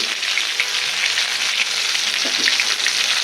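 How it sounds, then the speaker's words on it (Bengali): Pieces of katla fish frying in oil give off a continuous, rain-like hiss with scattered small pops. The sizzle stays steady and close throughout, with no talking. "লাল লাল করে ভাজছি"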